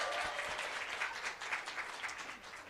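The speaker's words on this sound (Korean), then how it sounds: "박수!" Audience at a Korean business seminar claps steadily for a few seconds, a soft, even patter of many hands heard from a distance.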